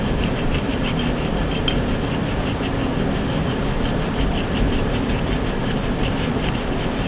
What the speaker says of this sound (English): Now it's beneficial if you have a nylon brush.